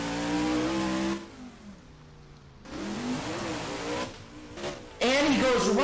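A Blue Thunder monster truck engine revs loudly during a freestyle run at a San Diego arena, surging in bursts with brief drops and a final roaring push, with an announcer talking over it.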